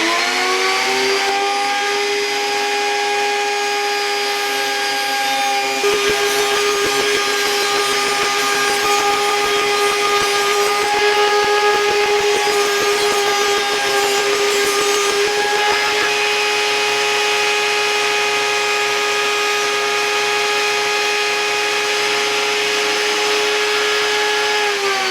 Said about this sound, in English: I'm using my lumberjack router table to remove this